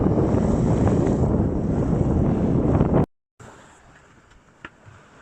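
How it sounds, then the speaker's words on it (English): Steady, loud wind buffeting and rushing water from a sailboat on Lake Ontario fill the first three seconds, then cut out briefly and return as a softer wash with a faint knock. "Hope you can hear the volume okay over the wind and water noise here."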